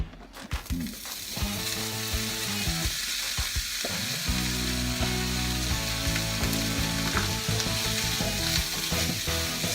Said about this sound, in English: sauteing, I keep saying it. Browning sausage